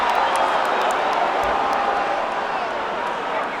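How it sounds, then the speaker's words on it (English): A dense arena crowd roars steadily at a Chuck Liddell MMA fight, a loud continuous wash of cheering that eases slightly toward the end. "The crowd reacted, though"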